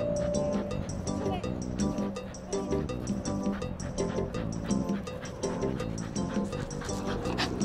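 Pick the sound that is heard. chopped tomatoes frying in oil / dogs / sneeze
dogs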